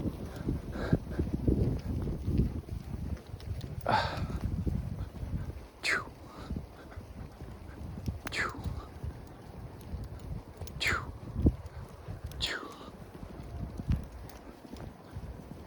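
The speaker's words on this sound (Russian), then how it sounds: "Кони." A herd of horses, a stallion driving mares, walks past outdoors. Soft, irregular hoof thuds come through steady wind noise, with a few brief high calls breaking out along the way.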